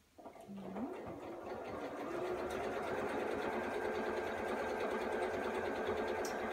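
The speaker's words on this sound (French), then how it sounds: "je me mets à la machine et je fais une couture complète sur tout le long de la bande." A sewing machine stitches a long seam along a strip of patchwork, starting up after a brief click and then running at a steady, even whirring pace close by.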